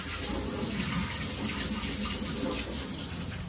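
Water runs steadily from a tap into a sink, a continuous hissing splash close by with no talking.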